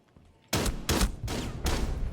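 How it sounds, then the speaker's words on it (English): Shotgun blasts in the tactical shooter Rainbow Six Siege, four heavy booming shots in quick succession after a brief quiet lead-in, loud and close. "Chris shotguns him down"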